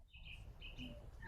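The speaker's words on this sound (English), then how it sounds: "I hear birds." Birds chirp faintly outdoors in summer heat, a few short high tweets scattered over a quiet low background hum, distant and brief, with no talk.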